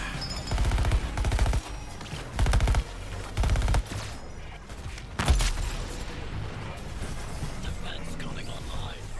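Deadshot fires in Suicide Squad: Kill the Justice League, with several loud rapid bursts of automatic gunfire, a single sharp crack, and then quieter scattered battle noise.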